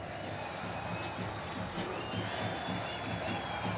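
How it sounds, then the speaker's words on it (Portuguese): A large stadium crowd applauds as Fluminense captain Fred is substituted during a match against Flamengo, a broad, even roar of clapping and crowd noise that stays steady throughout. "Sai aplaudidíssimo, claro."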